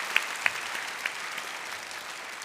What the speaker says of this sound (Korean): 우리 다시 한번 박수합니다.